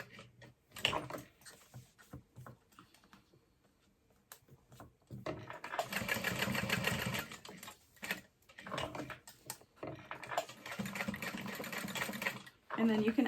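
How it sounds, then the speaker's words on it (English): A sewing machine sews a box stitch on a backpack strap of fabric and vinyl, running in a few close, rattling bursts with pauses between them. "So I'm just going to sew a box stitch"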